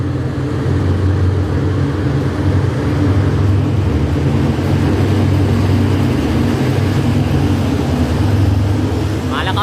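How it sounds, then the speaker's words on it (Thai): Ordinary passenger train no. 282 from Kabin Buri, Prachinburi, bound for Bangkok passes the Romklao Road level crossing, a continuous heavy low rumble holding steady throughout at close range. "กับขบวนรถธรรมดาขบวนที่ 282 นะครับ ต้นทางจากกบินบุรี จังหวัดปราจีนบุรี ไปทางเข้ากรุงเทพผลพงขณะนี้ วิ่งผ่านจุดตัดทางรถไฟ"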